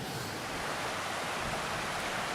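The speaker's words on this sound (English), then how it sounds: "It's the river next to where I'm at." A high river about 30 feet from a tent campsite at Long Lake rushes steadily, giving a constant broadband roar with no breaks and no voices.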